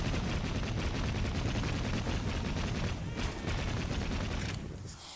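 Gatling gun fire in the video game Assassin's Creed Syndicate: a dense, continuous rattling stream of rapid shots, loud and unbroken, easing slightly at the very end.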